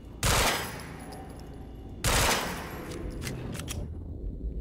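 Gunfire from shooting in the video game Quantum Break: two loud, sharp bursts about two seconds apart, each trailing off into a rattling decay.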